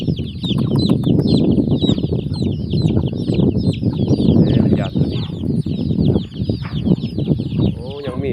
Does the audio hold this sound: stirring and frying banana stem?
no